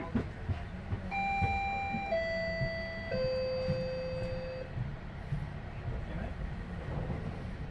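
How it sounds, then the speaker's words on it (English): Door chime on a GO Transit commuter train: a descending series of three or four clear electronic tones, each held about a second, sounding over the carriage's low rumble and background chatter. "Please stand clear of the doors. Doors are now closing."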